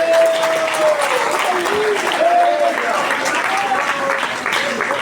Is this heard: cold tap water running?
no